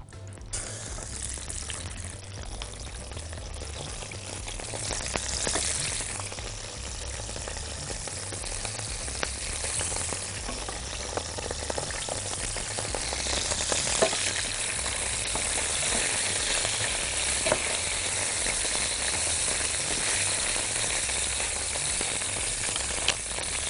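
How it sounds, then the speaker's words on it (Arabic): Boiled meat sautéed in a pan for fatta, with a continuous sizzle and frying crackle at moderate level, occasional stirring clatter, and no talk. "وهي بتتشوح هنزل معاها بصلايه كده"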